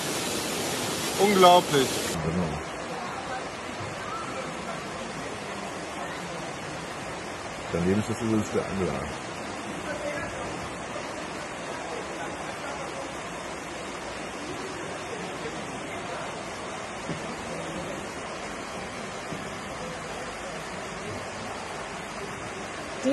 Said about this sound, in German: Die komplette Straße. Ein reißender Fluss.